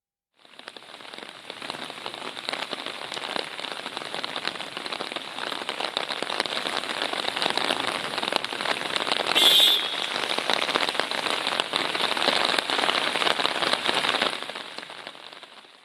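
Heavy evening rain pours down in Coimbatore, a dense, loud, unbroken roar of drops on surfaces that lasts throughout with no voices.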